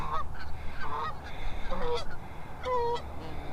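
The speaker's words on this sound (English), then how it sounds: "This gander over here there's a couple that usually are really tough birds." A gander honks in a handful of short, harsh calls spread across a few seconds, close by and alone without talk.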